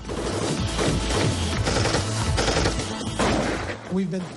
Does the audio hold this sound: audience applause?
no